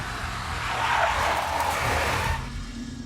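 A big black Mercedes in Max Payne skids with a loud tire squeal that swells and fades over a few seconds, backed by a low engine roar.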